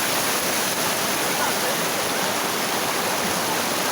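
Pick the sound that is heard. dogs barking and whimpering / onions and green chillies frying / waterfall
waterfall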